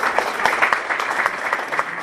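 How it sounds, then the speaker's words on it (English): Audience at an Ohio County Chamber of Commerce meeting claps for a brief stretch, a thin, uneven patter of individual hands from a small room crowd, moderately near. "And also give Slickback a big round of applause."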